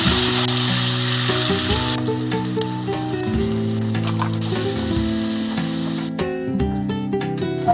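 Spices go into hot oil with fried chopped onion and a bay leaf, a steady crackling sizzle mixed with a loud steady hum, and no talking.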